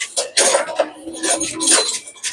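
A pan with a thick, worn lining is washed while dishes and pots clink close by in short metallic knocks and scrapes.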